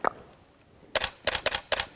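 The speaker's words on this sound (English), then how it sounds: "There we go, we got a nice headshot of Henry" Camera shutter clicks while a shelter cat is photographed with natural light and no flash: one click, a pause, then a quick run of four crisp, close shutter snaps with no talk.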